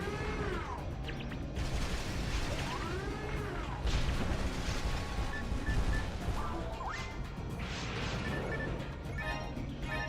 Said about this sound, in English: These missiles are too much to outrun.